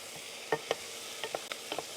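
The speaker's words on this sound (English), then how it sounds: "now stir the peas in. Get them all coated in the butter." Peas stirred into hot butter in a pan give a soft, steady sizzle with a handful of light scraping and clicking strokes from the spoon, close and fairly quiet, with no voices.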